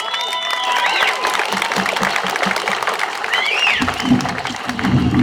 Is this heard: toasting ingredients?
no